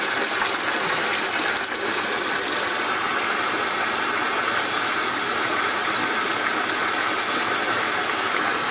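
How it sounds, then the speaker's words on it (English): A laundry room tap runs in a steady, loud, unbroken rush of water that fills the whole stretch with even hiss and splash, no voices over it. "there's the water running"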